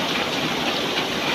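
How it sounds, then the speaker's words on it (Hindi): Heavy rain pours down outside a home in a dense, loud, unbroken hiss with no pauses, and no voices are heard. "तो बाहर इतनी जोर से आ रही है बारिश"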